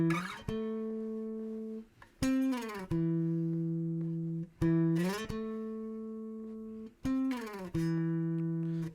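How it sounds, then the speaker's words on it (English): Electric guitar plays the higher line from a song, moving opposite the bass in repeated sliding phrases: clean sustained notes with glides, recurring in a steady cycle roughly every two and a half seconds. "on the record, there's an electric guitar part that plays a higher line that goes"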